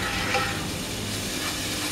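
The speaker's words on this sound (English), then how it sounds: "Oh, hear that sizzle." Steady, loud sizzling of food frying in a pan, a continuous crackling hiss with no voices.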